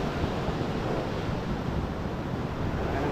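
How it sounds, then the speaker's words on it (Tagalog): Big waves roll onto the shore as a continuous dense roar of surf, loud and steady throughout, mixed with rushing wind buffeting the microphone, with no voices. "Malaki ng alon mga kalibre."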